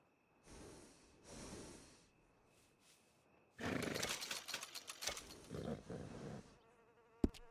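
A horse in the Red Dead Redemption 2 game snorts and blows in short breathy bursts, then a longer, louder stretch of rough whinnying and snuffling, fairly close, with a sharp click at the end.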